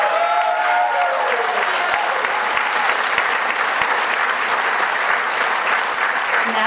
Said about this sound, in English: Let's give another round of applause to our graduates.